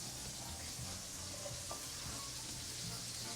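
Garlic sizzles in butter in a pan as a faint, steady frying hiss, with a few soft clicks, continuous throughout.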